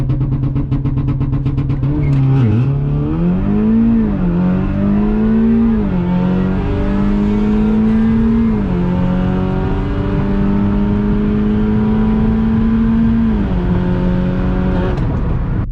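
A Stage 2 Audi S3 engine revs hard on a drag strip, climbing through the gears with loud, close accelerating roars and brief shift dips.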